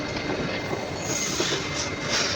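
A Bengaluru metro train runs past with a steady rumble of wheels on rail and a light squeal, continuous and moderately loud throughout.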